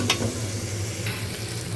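Ground coriander, chili and turmeric fry in hot oil in a pot while being stirred, giving a soft steady sizzle with scraping strokes of the spoon.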